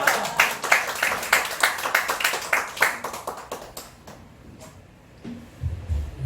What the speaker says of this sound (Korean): 하나님께 영광의 박수로 또 맞이하겠습니다.